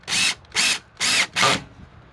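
Four short bursts of a power drill drive a screw into the bottom of a pre-drilled wooden fence picket during a fence repair. Each whir lasts about a third of a second, close and fairly loud, with brief gaps between.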